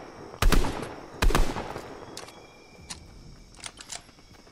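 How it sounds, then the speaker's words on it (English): Gunfire from the video game Fortnite: two loud, sharp bursts close together near the start, followed by fainter scattered shots and pops in the distance. "Gunfire over here."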